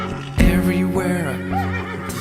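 A horse whinnies in a nursery rhyme farm song, one loud, close, wavering neigh that rises and falls for about two seconds.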